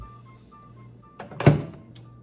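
A microwave door is shut after popcorn goes in, a single close dull thunk with a brief rattle, preceded by faint low room hum.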